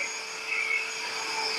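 A polishing machine detailing a car engine, a steady high-pitched motor whine with a constant tone, loud and close throughout with no talk.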